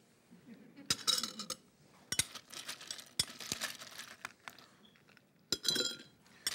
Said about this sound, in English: I believe in some ice cubes.